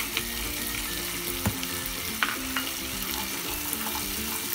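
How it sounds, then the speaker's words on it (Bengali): Tomato, onion and cashews frying in a pan for shahi paneer, a constant crackling sizzle at moderate level with a few soft clicks from stirring. "তো আমি টমেটোটা অ্যাড করেছি, একটু ভাজতে আবার সময় দেব।"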